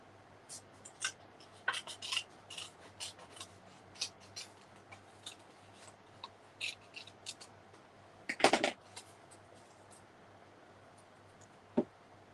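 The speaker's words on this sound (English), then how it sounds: "So let's just grab out our scissors." Scissors cut paper in quiet, scattered snips and scratchy rubs, with one louder burst of cutting partway through and a sharp single snip near the end.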